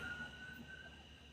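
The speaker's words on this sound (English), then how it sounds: "That sounds like an ambulance." An ambulance siren wails close by in the background, a steady high tone running throughout at moderate level.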